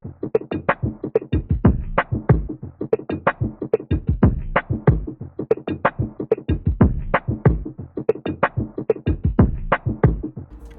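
A fast, punchy percussion loop, sped up from 80 to 93 BPM and panned left, with steady repeating hits, kicks and bright clattering accents driving along, loud and dry.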